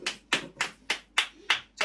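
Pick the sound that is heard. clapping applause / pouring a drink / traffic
clapping applause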